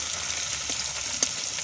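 Food fries lightly in a pan with a steady, even sizzle, and a single small clink is heard near the end.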